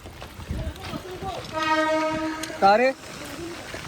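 A Mumbai local train moves through heavy rain, giving a loud, sustained horn-like tone that holds for about a second. A brief rising wail follows over steady background noise, with voices nearby.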